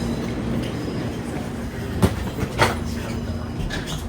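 A Japanese train running, with a steady rolling rumble and a couple of sharp clacks or bumps midway, heard without talk.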